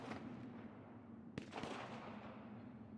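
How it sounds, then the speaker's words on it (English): Distant gunfire in a shooter video game, a few faint sharp cracks over low background rumble, quiet overall with no talk. "I hear dudes popping shots"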